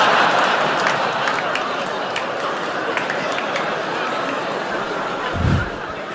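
Comedy show audience applause, a dense patter of clapping with a few whoops and laughs, holding steady for several seconds before tapering off.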